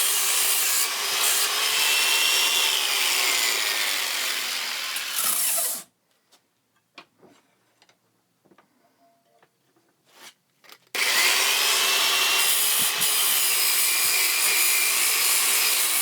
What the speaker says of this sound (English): So while I'm tapering down the edges, I'm also feathering the edges here too.